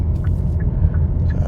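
A 2021 Kia e-Niro electric car drives along, a loud steady low road rumble and tyre noise filling the cabin, with faint higher whines drifting through.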